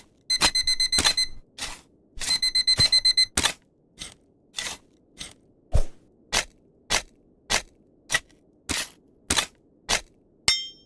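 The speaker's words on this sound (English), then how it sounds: "There's our evening alarm." Evening alarm in the video game Dig for Riches: two bursts of rapid electronic beeps, then a long series of single sharp clicks or beeps spaced about half a second apart, close and clear with no talk.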